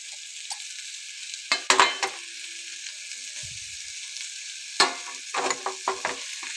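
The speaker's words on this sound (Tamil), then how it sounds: "இப்போ இது கூட 2 முட்டையை ஊற்றிடலாம்." Eggs poured onto fried bitter gourd in a hot pan give off a steady sizzle, with several louder spattering bursts and stirring scrapes close by.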